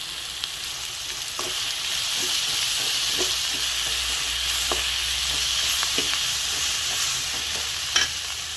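Curry leaves splutter in hot oil in a pan while a chicken liver dish is being made, giving a steady loud sizzle with scattered sharp pops and crackles throughout.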